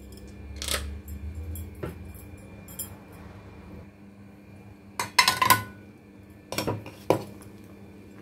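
A spoon or ladle stirs rice in a metal pot, making a few sharp clinks and scrapes with quiet pauses between them, close and fairly faint.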